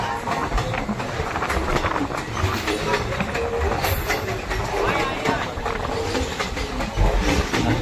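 A passenger train running on rails between Silchar and Haflong through hilly country, heard as a loud, steady rumble with a continuous rattle of the carriages.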